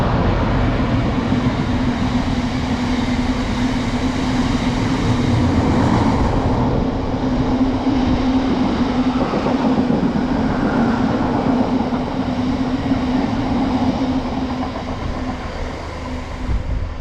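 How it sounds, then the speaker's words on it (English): A freight train rumbles steadily past a railway station on a line with East Midlands Railway services to Liverpool Lime Street, a loud continuous roar with a strong low hum and faint wheel clatter throughout, no talk. "Here comes a freight train,"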